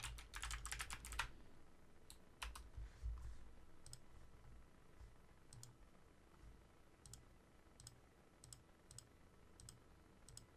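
Taps on a phone screen while text is entered, a light, irregular run of clicks, dense at first and then sparser, close and quiet with no talk.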